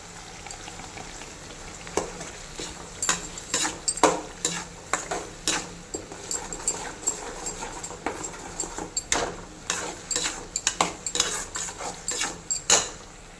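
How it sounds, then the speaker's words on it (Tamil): Masala sautéing in bubbling oil for a large conch meat curry, with a steady sizzle beneath frequent sharp clinks and scrapes of a spoon against the pan, close and unhurried, no voices. "நல்லா தபன்னு சூப்பராக அந்த எண்ணெய் நல்லா கொதித்து பிரிஞ்சு வருதுங்க"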